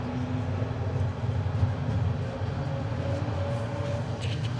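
A four-carriage train in Romania rumbles low and steady as it pulls away, with faint metallic creaks and groans drifting over the hum, no voices.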